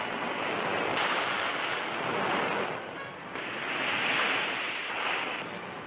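Ocean surf rolls in along an Australian beach, with broad washes of breaking waves swelling and fading in two or three long surges, loud and continuous with wind noise and no talk.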